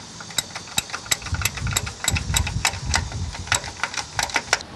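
Rapid sharp ratchet clicks while tightening a starter bolt on a 2001 Ford F-series 5.4L, a quick irregular series of about a dozen metallic ticks over a low background rumble.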